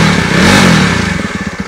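A Jawa Bobber motorcycle's exhaust revs close by, a loud rough engine note that swells and then breaks into rapid pulsing throbs as the throttle is blipped, with no talking over it.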